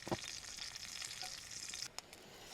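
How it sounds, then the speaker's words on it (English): Eggs frying in butter on a Camplux FG01AR portable camp stove, a steady close crackling sizzle that runs alone for about two seconds before cutting to a couple of brief clicks. "So we may get a nice fried egg out of this."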